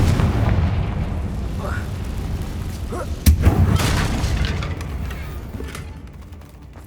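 A Confringo blasting spell explodes in the Hogwarts Legacy video game with a single sharp boom midway through, set within a continuous rumbling game soundscape that slowly fades.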